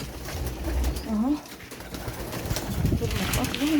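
Pigeons coo in a bird enclosure, with several soft, rolling calls rising over a dense ambient bed and a voice talking faintly in the background.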